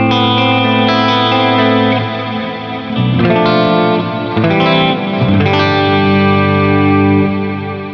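A clean 7-string electric guitar, a Fast Guitars Roamer in Burg spec, played through a compressor, multi-delay and reverb: loud, sustained chords ring into one another with echoing repeats and a lush wash of reverb.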